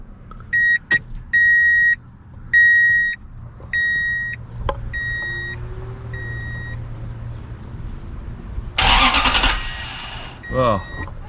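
A 2002 Toyota Tundra 4.7L with a newly fitted starter: repeated chime beeps, then a loud burst of engine cranking near the end, followed by a short whirring and more beeps, with some speech.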